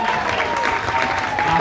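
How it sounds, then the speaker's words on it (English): Audience applause at a live writers' round music showcase, a steady dense wash of clapping from a crowd honoring four songwriter performers, sustained and even throughout with a faint voice underneath. "Can we get another round of applause, please, for all four of them?"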